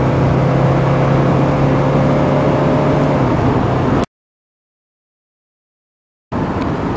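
A Mercedes-Benz 300 SD accelerates at about half throttle, its engine a loud, steady drone with a falling tone. The sound cuts to silence for about two seconds, then the drone returns briefly.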